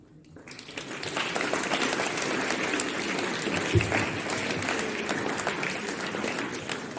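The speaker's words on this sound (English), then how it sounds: "Another round of applause is in order for all the diligent background work that Ms. Choudhury" Audience applause at a TED-Ed event, a steady wash of clapping that swells within the first second and holds at an even level to the end.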